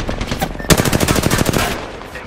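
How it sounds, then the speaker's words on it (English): Rapid automatic gunfire from an enemy squad in the battle royale game Apex Legends, a loud dense burst of fast repeated shots with a quieter lead-in and a fading tail. "My second squad is firing at us."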